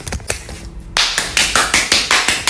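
A few people clap in a casual indoor setting, a handful of sharp, close claps at first, then a steady run of about ten evenly paced, loud claps.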